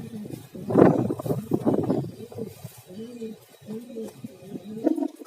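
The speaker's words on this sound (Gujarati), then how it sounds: "4 કબૂતર બહાર રાખી દીધા છે" Pigeons kept in a home loft coo in low, rolling phrases, loud and close at first, then softer repeated coos with short gaps between them.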